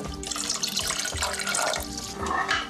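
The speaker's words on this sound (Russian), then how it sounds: "Сколько воды достаточно налить?" Water pours steadily into a vessel up to a black fill mark for an ice experiment, a continuous close splashing and trickling rush lasting the whole moment with no voices.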